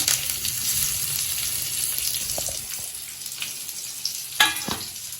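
Chillies and curry leaves frying in hot oil, a close bright hiss that holds steady, with a few spoon knocks and one sharp clatter near the end.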